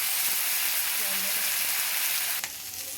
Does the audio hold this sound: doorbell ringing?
no